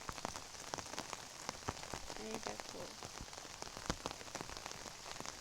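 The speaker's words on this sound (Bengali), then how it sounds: "প্রচুর বৃষ্টি হচ্ছে আমাদের এখানে।" Heavy early-morning rain pours down outdoors in a dense, steady patter of drops hitting surfaces, with sharper individual splats throughout and a brief spoken voice near the start.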